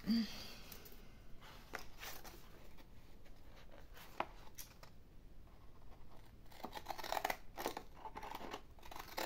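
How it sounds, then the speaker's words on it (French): Quiet, close snipping of decorative-edge scissors cutting through paper, a series of irregular crisp cuts with soft rustling between them. "je vais venir couper le tour avec mes ciseaux cantés"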